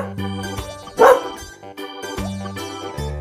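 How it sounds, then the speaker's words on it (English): A dog barks once, a short loud bark in the middle, set over cheerful background music in a children's phonics lesson. "Dog."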